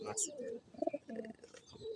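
Racer pigeons coo softly at close range, a couple of short throaty calls amid faint rustling, with some voices in the background.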